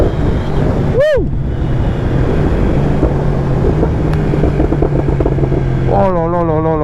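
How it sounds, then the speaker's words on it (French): A Yamaha R1 sport motorcycle engine revving loud and close with wind noise, finishing in a rapid rising-and-falling crackle as it downshifts. "Quand je rétrograde, le bruit que ça fait."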